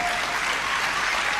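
Romanian fans in the crowd applaud at a table tennis women's team semi-final, China against Romania, at the World Team championships in London: dense, steady clapping filling the arena, loud and continuous throughout.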